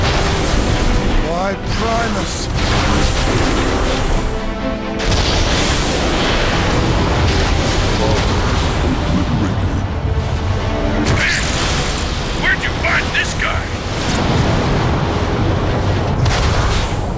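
Metroplex blowing up a warp cannon in Transformers: Fall of Cybertron: heavy booming explosions, loud and repeated, with a brief cut in the middle, while a character talks over them.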